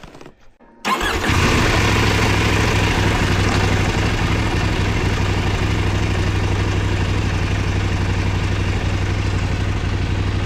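A Kove 800 motorcycle engine starts up after about a second of near silence, then runs at a loud, steady, throbbing idle right next to the microphone, with no talking.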